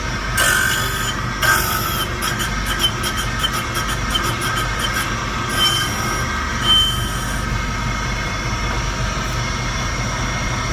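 A rod resizing machine runs with its cutting stone raised to the work, giving a loud, steady high-pitched grinding whine with a bright screech and a series of rapid ticking bursts, heard alone throughout.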